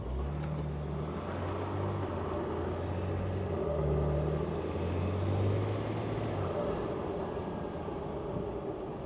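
A BMW M57 diesel engine with a ZF8HP automatic transmission and a performance tune accelerates with turbo noise from the intake. A steady, loud drone with low engine tones rises and holds throughout, with no talking.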